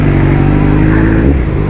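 A loud motorcycle engine holds a steady, close-up drone throughout, with a slight shift in pitch near the end and no voices over it.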